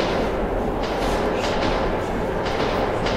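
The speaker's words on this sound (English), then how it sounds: "Fake train. It's a ghost train." A ghost train in the video game Metro 2033 Redux rushes past in a subway tunnel, producing a loud, steady roar with faint rhythmic rattling throughout.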